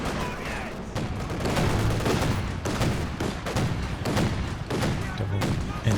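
Sustained heavy machine gun fire from a team in a battle video game, a dense continuous rattle of rapid shots with distant booms mixed in, loud throughout.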